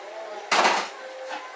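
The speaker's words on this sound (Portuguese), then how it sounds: "Vou tampar agora a panela do feijão." A metal lid set onto a bean pot on a home stove gives one sharp clatter with a brief ringing tail, followed by a fainter knock, over a quiet kitchen background hum.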